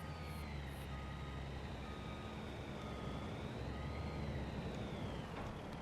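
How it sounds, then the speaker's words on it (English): A steady, high-pitched reversing beep repeats over the low rumble of a truck engine as a farm-sim vehicle backs into a grain trailer, evenly paced and fairly quiet with no talk. "So let's back into our grain trailer here."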